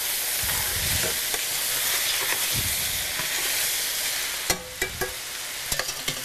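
Pasta sizzles loudly in a hot pan with mushrooms and sun-dried tomatoes, a steady broadband hiss broken near the end by a few sharp clicks of a utensil stirring against the pan.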